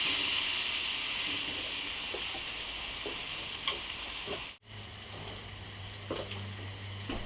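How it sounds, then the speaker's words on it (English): A tomahawk steak sizzles steadily on the bars of an Argentinian grill, a constant close hiss with a few soft pops and clicks scattered through it. A brief dip in the middle is followed by a low hum. "It's the bar, you can hear it sizzling."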